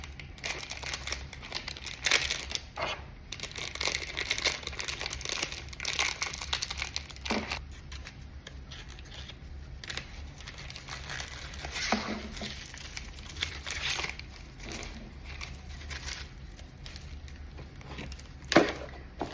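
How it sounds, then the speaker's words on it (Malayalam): Wrapping material crinkles and rustles steadily while a parcel is packed, a busy close-up texture of crumpling and handling with occasional sharper crackles and taps, no voices. "നമുക്കിതും വേഗം പാക്ക് ചെയ്യാം."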